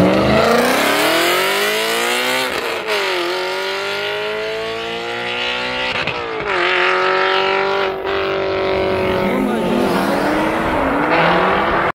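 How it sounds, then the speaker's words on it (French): A loud Audi RS4 accelerates hard at a supercar meeting, engine howl rising through several gear changes with short breaks between shifts, close and dominant throughout, with a voice faintly in the background. "la RS4 la plus bruyante du monde"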